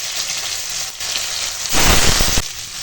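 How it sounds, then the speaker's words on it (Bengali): Bitter gourd slices frying in hot oil, a steady loud sizzle that surges louder for a stretch near the end, with no voices. "তো চলো উচ্ছেগুলো ভাজতে দিই তেল গরম হয়ে গেছে"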